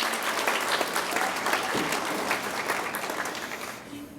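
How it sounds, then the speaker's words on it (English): A crowd claps steadily and loudly for several seconds, sustained applause for graduates' families filling a large room at a nursing pinning ceremony, before tapering slightly at the end. "give your families a round of applause"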